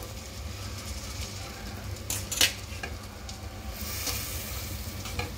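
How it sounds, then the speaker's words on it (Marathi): Vegetables such as pigeon peas, sweet potato, field beans, carrots and peas dropped into a pot of oil-glossed spice base, with a steady sizzle of frying, stirring and a sharp clink of utensils against the pot. "आता आपण याच्यामध्ये एक एक करून भाज्या घालूया।"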